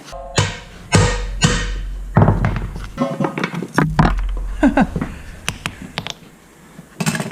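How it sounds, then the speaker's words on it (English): A hammer repeatedly pounds a U-joint cap out of a Ford F150 driveshaft yoke braced on an anvil. Sharp, loud metallic blows land at irregular intervals, close by, with brief pauses between strikes. "we have to unfortunately pound it all the way back the other direction to get that cap off of the other side"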